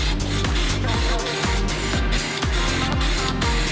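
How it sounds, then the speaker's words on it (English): A light coat of spray paint goes onto a front mount intercooler part for a 2004-2007 Subaru WRX/STI, heard as a rapid series of short aerosol bursts, about eight evenly spaced hisses, close and loud with no talking. "We'll put a light coat of paint on this and then we can get this front mount intercooler fitted up."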